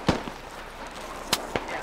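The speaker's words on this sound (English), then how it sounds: "Shots are still coming in." Gunshots in the military shooter Squad: three sharp reports, one early and two close together near the end, over a steady background hiss with no speech.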